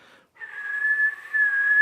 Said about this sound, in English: Just whistling at my cat.